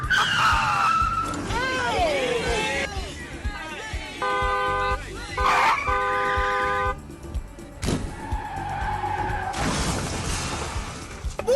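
A car skids and honks while being driven badly, tyres squealing and horn bursts sounding loudly amid traffic noise, with voices and other street sounds mixed in.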